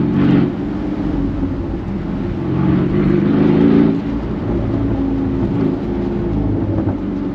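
A Brabus convertible's engine, a deep steady rumble that swells under throttle, loud and close, with a couple of rises in revs over several seconds.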